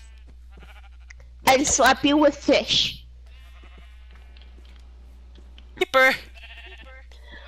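Sheep bleats sound from a survival video game, short wavering calls mixed in with someone talking over them in two bursts, set against a quiet, faintly humming background.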